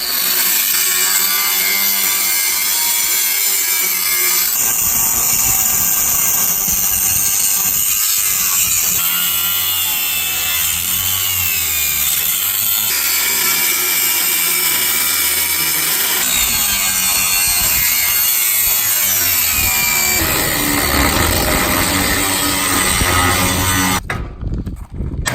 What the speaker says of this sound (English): So let's get the grinder out and cut those welds.